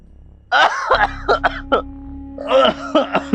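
A man coughs and clears his throat in rough, strained bursts, with a pause of quiet between two clusters of hacking.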